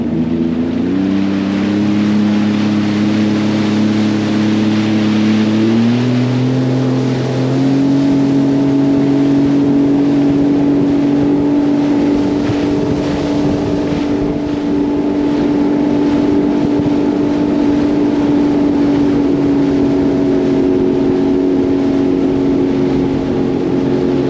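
A Sea-Doo personal watercraft cruises along the Lake Ontario coastline, its engine droning loud and steady with a rising pitch as it picks up speed, with wind rushing over the microphone throughout.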